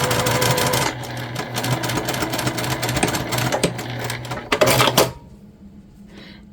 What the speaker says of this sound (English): we're just stitching right over those lines here